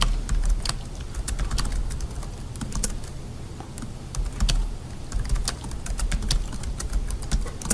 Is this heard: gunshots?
no